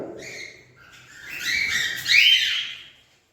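A few bird chirps and tweets sound nearby in short bursts, rising then fading to silence.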